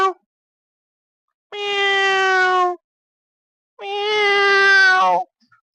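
A voice imitates a cat meowing, giving two drawn-out, tonal meows separated by a short silence, each about a second or more long and clear and close.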